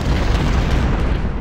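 Cannon fire from the Civil War strategy game Ultimate General: Civil War, during the Battle of Shiloh, comes as a loud, dense, rumbling boom. The deep thunder of the guns holds steady for the whole brief moment, with no speech.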